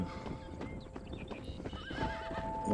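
A horse in the Red Dead Redemption video game whinnies while its hooves clip-clop over the ground, rising neighs over uneven hoof thuds, fairly quiet and close.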